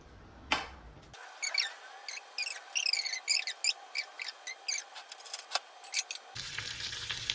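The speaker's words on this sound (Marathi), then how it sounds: "आता करून घेऊया फ्राय।" Mackerel (bangda) coated in a spiced turmeric mixture crackles and sputters as it fries in a pan, with rapid popping bursts over a steady sizzle and a few clicks, heard up close with no talking.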